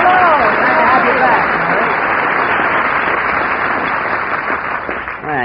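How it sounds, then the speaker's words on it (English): Studio audience applause from a 1940 radio broadcast, a steady loud wash of clapping with voices speaking over it. "Well, you hear that applause, Mary?"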